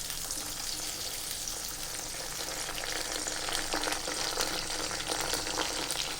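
Eggplant pieces fry in a pan with a continuous sizzle and crackle, close and moderately loud, and stirring scrapes now and then.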